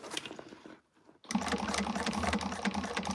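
A sewing machine stitching fabric runs in a fast, even whir, pausing briefly for about half a second before starting up again, close and steady.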